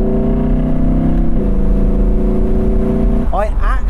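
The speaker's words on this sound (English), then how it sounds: "I actually think I prefer that low down rumble to the high up scream." An Audi R8 Spyder engine with a 9,000 RPM redline holds a loud, deep, rumbling rev near the limit, then its pitch sweeps as it drops off, heard close with a voice talking over it.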